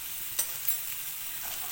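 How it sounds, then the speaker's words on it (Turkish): Minced meat köfte frying lightly in a pan, giving a soft continuous sizzle with a couple of brief stirring clicks, fairly quiet and close. "Böyle hafif sadece kızartacağım ki birbirini tutsun da dağılmasın yaparken."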